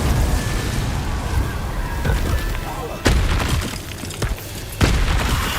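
Repeated Incendio fire spells cast in Hogwarts Legacy, loud booming bursts of flame over a dense roar of combat noise, with sharp impacts striking about every second or two.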